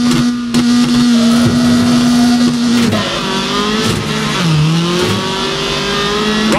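A rally car engine in the video game WRC 3 drones loud and close, its pitch shifting up and down as the throttle varies through gear changes, with brief mechanical knocks and no voices.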